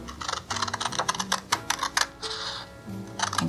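Scissors snip through a sheet of paper being cut into strips for rolled paper beads, a close run of crisp, rapid cutting clicks and rustles.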